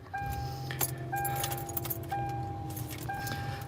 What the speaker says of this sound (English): Oh, I gotta get this car started here.